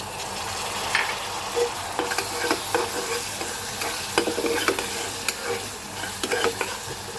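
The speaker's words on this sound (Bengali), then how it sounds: "তারপর আমি এর মধ্যে অল্প পরিমাণে সয়া সস দিয়ে দিচ্ছি" Pasta sauce sizzles and fries steadily in a pan after a splash of soy sauce, with repeated stirring scrapes and clinks through a continuous bubbling hiss, fairly close and without any talk.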